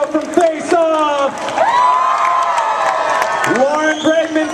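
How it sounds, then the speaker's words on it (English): Audience at a Los Angeles cosplay contest cheering and whooping for the judges, a loud, sustained crowd roar with high shouts and some clapping, close and lively throughout. "Everybody give it a cheer."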